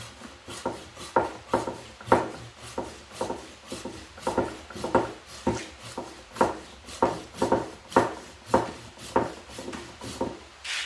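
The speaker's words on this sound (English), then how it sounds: "These silky saws are a pull saw" An old, dulled Silky pull saw cuts through a small olive bonsai trunk in steady, rhythmic rasping strokes, about a dozen even pulls up close, with no voices.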